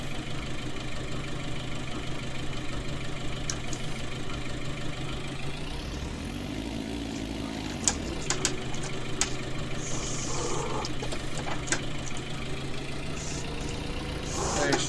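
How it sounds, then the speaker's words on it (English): Two farm tractors sit idling in a yard, a steady low engine rumble running throughout, with a few brief knocks and clatters over the drone. "These tractors, the only two we've got on the farm still."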